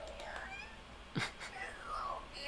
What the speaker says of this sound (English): it's a kitty cat with curly fur